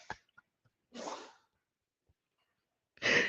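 A dog sneezes indoors in a sharp, close burst, followed after a pause by a second, louder sneeze, with faint small noises between and no talking.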